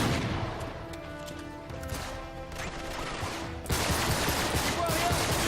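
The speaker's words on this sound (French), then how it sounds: "Il marche bien le fusil, il marche bien." Rifle gunfire in Uncharted 3: Drake's Deception, a steady roar of combat with rapid shots that grows louder and denser partway through, while someone speaks over it.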